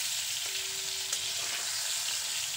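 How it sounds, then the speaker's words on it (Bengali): Pointed gourds sizzle steadily in hot oil, a constant close broadband hiss with a faint tonal hum running through the middle; no voices. "পটলগুলো দুপাশ থেকে খুব ভালো করে ভেজে নিয়েছি, এখন সবগুলো পটলকে তুলে নিচ্ছি।"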